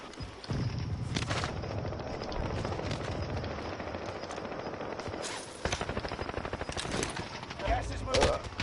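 Sustained video-game gunfire rattles nonstop in rapid automatic bursts, loud and close, with heavier booming shots near the end and a voice speaking briefly beneath the shooting.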